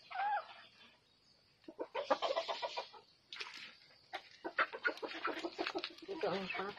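Farm chickens clucking close by in short broken bursts, with people talking over them.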